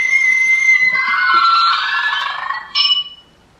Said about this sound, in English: It makes the Scream canister sound actually from the Monsters Inc. movie.